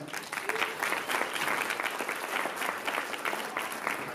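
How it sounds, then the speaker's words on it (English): A crowd claps loudly and steadily, a dense wash of applause holding at the same level throughout. "Let's hear it for Henning Morales"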